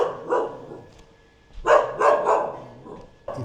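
An angry dog near a Karni Mata temple in India barks close by, a short bark followed by a burst of three or four rapid, aggressive barks and a final clipped one.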